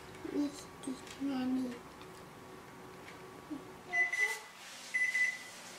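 Kitchen timer beeping after a vanilla cake finishes baking, a few short high electronic beeps in two brief bursts near the end, preceded by faint talk and background kitchen noise.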